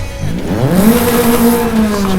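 A Toyota Trueno AE86 engine in Forza Horizon 5 revs loud and close, its pitch sweeping upward and then holding at a high, steady whine with a faint tire squeal.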